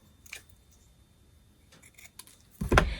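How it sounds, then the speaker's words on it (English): Scissors snip the left and right edges of a paper greeting for a Christmas card, with a couple of light cuts early on and a louder, closer crunching snip near the end; no voices. "we're going to take the greeting and we're going to snip off a little bit on the right and the left"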